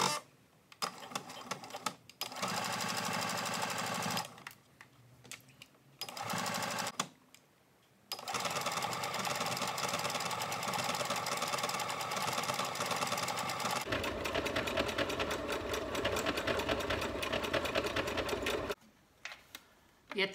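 A sewing machine stitching a homemade guest slipper, switching to a decorative stitch: long, loud runs of rapid mechanical whirring and ticking broken by short pauses, with a change in pitch partway through.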